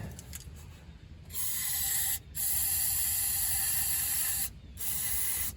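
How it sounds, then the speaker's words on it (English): Brake cleaner sprayed in two long hissing bursts into the carburetor of a 1968 Ford F100 pickup, preceded by faint handling clicks, close and fairly quiet. "Also some brake clean. I'm just going to squirt"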